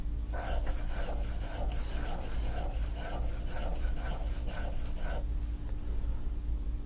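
A hand engraving graver is faced off on a sharpening stone, about a dozen rhythmic rasping strokes back and forth, close and fairly quiet, before falling silent.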